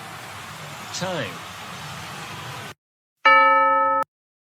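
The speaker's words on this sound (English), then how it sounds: "the word chime is a ringing sound made by a bell, especially when it is part of a clock" A bright bell chime rings out alone after a brief silence, one sustained metallic tone with strong overtones that holds steady for under a second before cutting off, following a stretch of background noise and a sliding voice-like sound.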